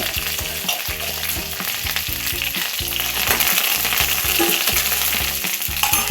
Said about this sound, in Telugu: కరివేపాకు వేస్తాను.